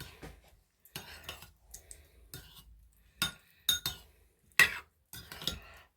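Utensils clink and scrape against a dish as pineapple is mixed in a kitchen, short clattering bursts spaced across the moment with quiet gaps between, close and moderately loud.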